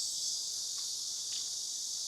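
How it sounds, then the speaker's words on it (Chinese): Cicadas buzz on a hot summer day near an old riverside pagoda in Hunan, a dense continuous high-pitched drone with no voices. "知了叫个不停。"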